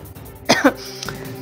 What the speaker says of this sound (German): Oh, ich muss husten, mein Güte.